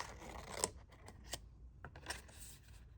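Scissors snipping through patterned craft paper while trimming a white edge for an envelope paperclip, a few quiet crisp cuts spaced across a faint background without talk.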